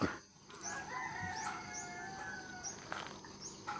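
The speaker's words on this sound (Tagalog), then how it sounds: "May manok, manok, manok, manok, manok." A rooster crows in the open, its call rising and falling over a steady outdoor background, with faint clucking of other fowl nearby.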